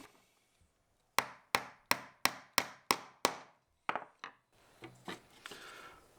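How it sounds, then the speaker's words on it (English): Nails are hammered into a wooden beehive brood frame, joining the sidebar to the top bar. Seven sharp, evenly spaced strikes ring out close by, followed by a few lighter taps and rustling handling. "So let's just finish off nailing this."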